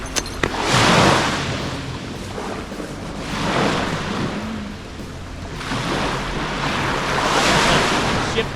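Gentle waves wash in and out over a stony beach in Cape Breton Highlands in slow swells, each surge hissing softly as it breaks, with steady wind noise underneath and no voices.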